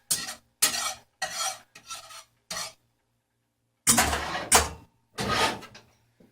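Bread bottoms go into a hot pan for grilled cheese sandwiches, producing short bursts of scraping and sizzling in an uneven rhythm, with gaps of silence between them, close and fairly loud.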